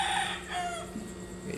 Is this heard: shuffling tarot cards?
no